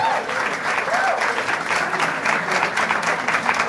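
An audience at a stand-up comedy show applauds in a steady, dense wash of clapping that lasts throughout, with brief voices faintly mixed in.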